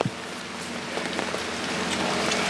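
Rain falling outdoors on a canal bank during an acrylic painting session, a dense steady patter of drops on nearby surfaces with a few sharper close hits, no voices.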